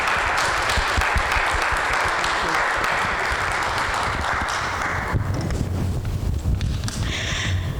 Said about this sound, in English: please give me a round of applause to appreciate Sarah Pratt